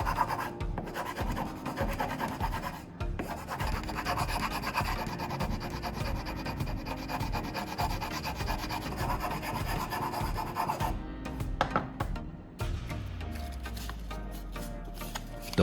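A file rasping across wood, gripped by a handle made from sawdust and PVA glue filler: continuous close rhythmic rubbing strokes with brief pauses and a final scrape.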